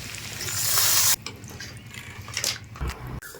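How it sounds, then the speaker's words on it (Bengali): Water poured into a mrigal fish curry in a pan, a close, bright gushing rush for about a second, followed by softer bubbling and a few small knocks. "দিয়ে দেব পরিমাণ মতো জল"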